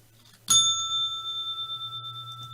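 A single bright bell strike rings out clearly and then sustains, its tone slowly fading with a gentle wavering shimmer over a low background hum.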